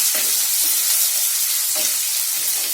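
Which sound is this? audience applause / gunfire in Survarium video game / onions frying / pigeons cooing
onions frying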